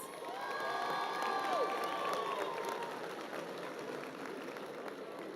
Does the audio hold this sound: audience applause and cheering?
yes